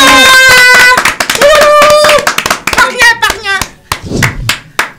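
Loud, sharp clapping bursts break through a busy mix of singing tones and voices, claps coming in irregular clusters.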